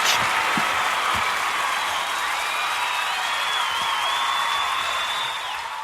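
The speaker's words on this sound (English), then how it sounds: "I just love the round of applause" Steady, loud applause from a live show audience fills the whole stretch, a dense wash of clapping with a faint tonal hum running beneath it, fading only slightly at the end.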